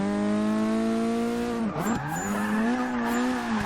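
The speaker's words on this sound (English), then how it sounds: "you hit that e-brake, get a little bit of oversteer happening" Ford Focus ST in a racing game sliding through a turn on e-brake oversteer, engine droning at a steady pitch that dips and recovers while tires squeal loudly in a long skid.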